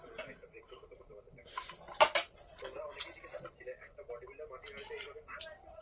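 Dried fish curry is mixed into rice on a plate, with soft, close clinks and scrapes of utensils against the plate, one sharper clatter, under quiet talk in the background.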